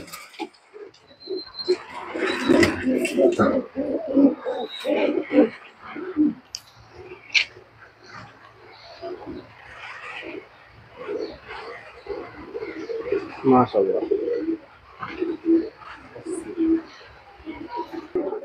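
Pigeons cooing close by in a loft or coop, soft low coos woven among clicks, creaks and fluttering, mostly under someone talking at length.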